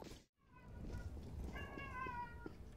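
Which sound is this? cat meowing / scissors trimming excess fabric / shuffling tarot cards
cat meowing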